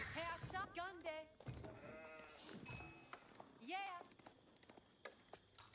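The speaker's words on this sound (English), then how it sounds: "now we at least have a sheep" Sheep bleat repeatedly in the Age of Empires 4 real-time strategy game, several wavering calls over game sounds and faint clip-clop effects, with a player talking over them.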